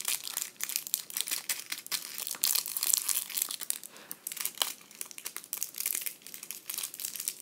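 Crinkly plastic packaging of rainbow loom rubber bands and S-clips being pulled and torn open by hand, a continuous close-up rustling and crackling with small bursts of crunching.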